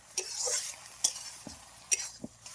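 A wild Ayurvedic leafy vegetable being sautéed in a pan, with a soft sizzle under sharp spatula scrapes and clinks that come roughly once a second, close up and without talk.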